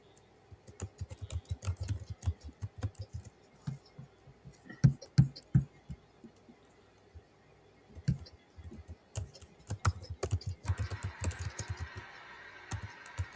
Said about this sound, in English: I can hear the typing going on